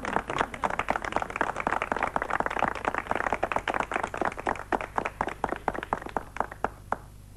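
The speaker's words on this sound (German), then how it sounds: "Vielen Dank für diesen herzlichen Applaus" A live audience applauding after a magic trick at a 1985 German television show, many hands clapping in a dense, lively burst that thins out toward the end.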